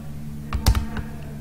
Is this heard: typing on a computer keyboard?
yes